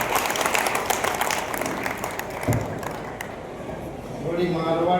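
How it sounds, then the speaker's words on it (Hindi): A crowd at a Rajasthani kavi sammelan comedy poetry event in Rishabhdeo claps in a dense burst of applause under a voice, the clapping thinning midway and swelling again at the end. "एक बार ढंग की ताली बजा लो।"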